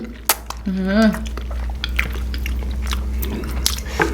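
Crunchy edible slime with sea grape seaweed is chewed close up, giving wet bites, squishes and crisp crunches, with a short hum of the voice early on.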